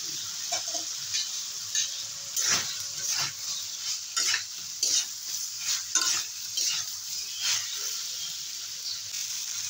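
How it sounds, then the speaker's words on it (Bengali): Fried potatoes stirred into a pan of cabbage and bottle gourd shoots with ground green chillies, a steady sizzle broken by repeated scraping strokes of a spatula against the pan, close and with no talk. "এবারে ভাজা আলুগুলো দিয়ে দেবো"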